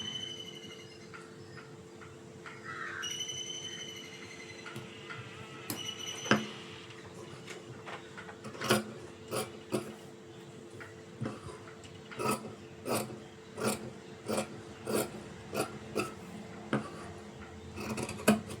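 Scissors cut blouse fabric during tailoring: after a quiet stretch with a faint hum, a series of roughly evenly spaced crisp snips follows, close and moderately loud, with no voice.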